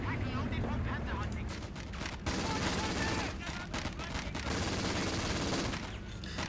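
A Vickers light machine gun in Company of Heroes 2 fires in dense, rapid bursts amid other battlefield gunfire and explosions, with loud continuous crackling and short gaps between volleys.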